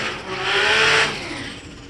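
A Toyota Supra drag car does a burnout at a drag racing meet, a close, loud engine roar with screeching tire noise that swells and then eases slightly.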